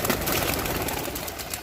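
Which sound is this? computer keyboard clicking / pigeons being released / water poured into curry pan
pigeons being released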